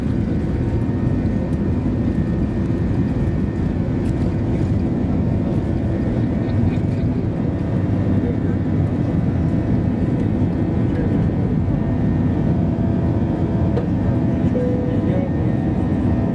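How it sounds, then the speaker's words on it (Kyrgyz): An airliner's engines roar steadily at close range during takeoff from Manas airport, a dense low rumble heard from inside the cabin that holds constant throughout. "Манас аба майданынан булуттарды жыра тартып көккө көтөрүлүп"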